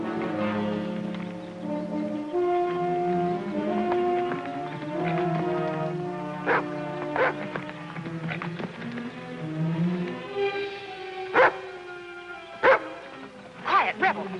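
Barking from a dog named Rebel, a few sharp, loud barks in the latter half over a busy bed of orchestral music, with voices speaking briefly.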